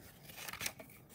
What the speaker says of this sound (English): So, for a belly band, you cut 2-inch strips.